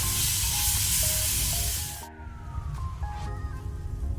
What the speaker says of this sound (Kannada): ಈಗ ನಾನು 1 ಟೇಬಲ್ ಸ್ಪೂನ್ ಶುಂಠಿ ಬೆಳ್ಳುಳ್ಳಿ ಪೇಸ್ಟ್ ಹಾಕೊಳ್ತೇನೆ. ಇದನ್ನು ಒಳ್ಳೆ ರೀತಿ ಫ್ರೈ ಮಾಡುವ